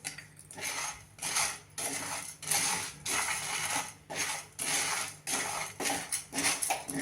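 Barnyard millet rice is tipped into a hot pan of dry-roasted sago and stirred, giving repeated bursts of rattling, scraping grains against metal in an uneven rhythm, close by and with no talking.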